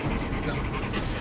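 A police detection dog pants close by in rapid, steady breaths during a border patrol search, continuous and fairly loud across the short moment with a bit of background noise.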